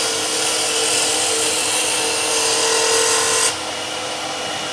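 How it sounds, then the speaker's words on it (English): A wood lathe spins as a gouge makes a smooth finishing cut with the bevel rubbing, giving a steady, close, bright hiss and whir that holds evenly, then drops abruptly to a quieter motor hum near the end. "lower the handle down, get the bevel rubbing, and just go along and make a nice finishing cut"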